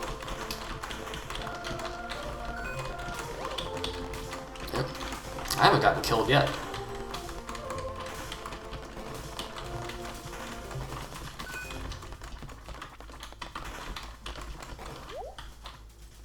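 Computer keyboard clicking during a Stardew Valley play session, recorded on an open microphone: quick irregular taps and clacks running throughout, mixed with game music and someone talking over them.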